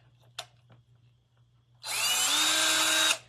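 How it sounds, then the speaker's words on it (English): A brief knock, then a power drill whirs loudly for over a second, its pitch rising as it bites into plastic before cutting off. "we have to drill into the plunger"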